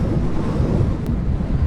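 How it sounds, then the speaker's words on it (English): Steady, heavy wind roar buffeting a rider on a motorcycle touring from Bangalore toward Ladakh, a dense low rumble filling the whole stretch without pause. "It's quite windy today."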